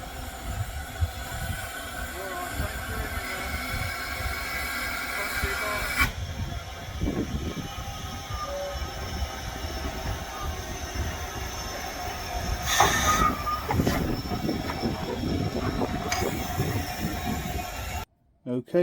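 A sound-fitted Rapido 1501 pannier tank model locomotive runs with continuous hissing steam and chuffing rail noise, fairly loud and steady, with a voice speaking over it at times.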